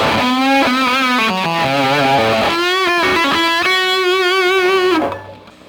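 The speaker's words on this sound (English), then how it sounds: "if you put one of those out of phase, you get something very harmonic-y and screamy," A bright, singing electric guitar line with one pickup of the neck and center pair out of phase, giving a cutting, slightly nasal, screamy edge and vibrato on long notes, played alone before fading out.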